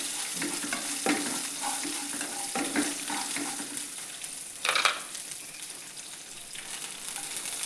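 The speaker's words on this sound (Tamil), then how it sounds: "பூண்டை நல்லா வதக்கி விடுங்க" Crushed garlic sautés in a pan with a soft, steady sizzle, broken by intermittent stirring scrapes and one louder clatter, close up with no talking.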